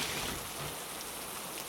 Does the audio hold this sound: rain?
yes